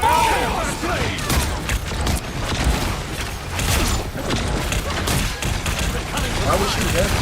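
Rapid video game gunfire crackles in dense bursts throughout, with booms and thuds in a chaotic shooter match, mixed under ongoing in-game voices and effects.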